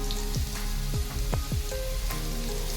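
Diced potatoes dropped into hot oil for a vegetarian Bengali jackfruit curry, frying with a steady sizzle and a few soft knocks of the pieces landing and shifting in the pan, no talk.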